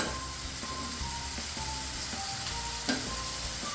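Dal sizzles and crackles steadily as it fries in a pan for peanut chutney, with light stirring scrapes and a brief louder pop near the end.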